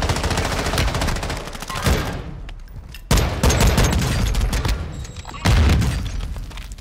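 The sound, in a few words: gunfire in video game Call of Duty Warzone 2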